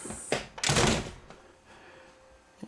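A house's front door in Ellijay, Georgia, opens with a sharp thunk followed by a longer rattling swish, then quiet room tone and a faint knock near the end, with no talking.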